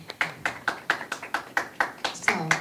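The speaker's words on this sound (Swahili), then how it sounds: "Makofi jamani." Crisp, evenly spaced claps in a brisk, steady rhythm, about four per second, from an audience at a football club announcement naming a new chief scout, fairly close and moderately loud.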